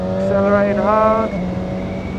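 A BMW S1000XR motorcycle accelerates hard on a bumpy mountain road, its engine note climbing loud and close through the gears with a rising whine, then dropping back to a steady drone.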